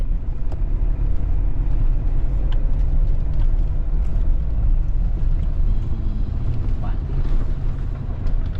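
A four-wheel-drive vehicle travelling a rural road in the Laos countryside during the rainy season, with a steady, loud engine and road rumble and wind buffeting throughout.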